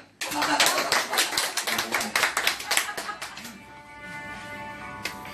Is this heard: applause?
yes